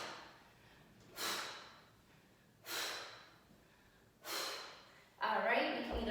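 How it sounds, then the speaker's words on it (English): Three forceful exhales puff out at an even rhythm during a weighted exercise, breathy and close, followed by a longer noisy rush of air. "And breathe out."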